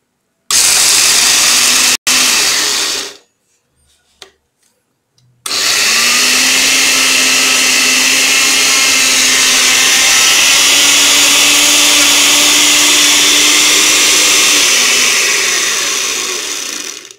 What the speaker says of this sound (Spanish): Vamos a moler, no mucho tiempo para que no se queme la licuadora